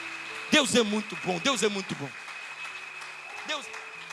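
A church congregation claps in short scattered bursts, fairly faint, while voices speak and call out over it.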